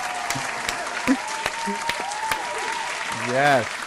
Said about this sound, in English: only I can give it up because I got the clap button